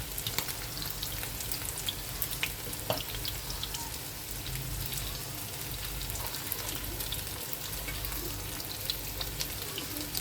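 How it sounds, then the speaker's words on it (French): Ingredients grill in a tagine with a close, continuous crackling sizzle. Faint pops and occasional stirring sounds rise over the steady fizz, and no one speaks. "on laisse bien griller par contre"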